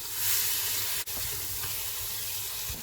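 Mutton and onions fry in a pan after a splash of water, giving a steady loud hiss and sizzle with a brief stir or clank partway through, no voices.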